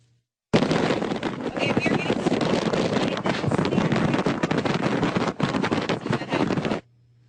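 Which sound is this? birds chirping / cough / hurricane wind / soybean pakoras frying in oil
hurricane wind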